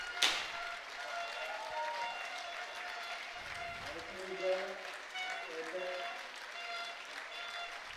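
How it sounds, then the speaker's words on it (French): Spectators at a regional French rugby championship final stand and applaud, a sustained wash of distant crowd clapping with a commentator talking over it. "Avec tout le public qui se lève, qui applaudit et qui respecte ce beau moment de partage."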